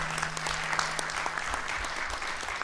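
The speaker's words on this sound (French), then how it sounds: "J'aimerais vraiment qu'on applaudisse cette vision-là" Audience at a business launch event for a West African energy company applauding steadily, a dense patter of many hands from a crowd, moderately distant and without talk.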